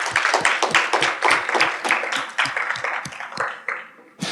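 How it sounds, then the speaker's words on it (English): Audience at a tech talk claps to welcome two presenters, starting as a close, crisp round of individual claps with some rhythmic pulsing, then thinning and tapering off toward the end. "Let's give them a round of applause"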